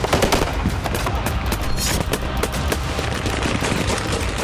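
Sustained gunfire during attacks on Syrian forces, dense rapid bursts of automatic fire overlapping continuously, loud and harsh throughout.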